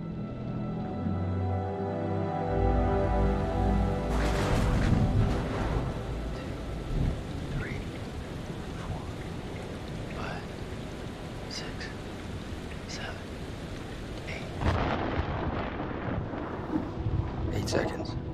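A thunderstorm with steady heavy rain fills the scene in the video game Man of Medan, a dense continuous roar with rolling thunder swells and a louder surge near the end.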